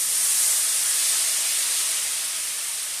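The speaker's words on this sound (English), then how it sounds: "This food always tastes better when it sizzles like that." Chicken broth poured into a hot pan of chicken hisses and sizzles loudly and steadily, a dense close-up spray of frying noise with no voices over it.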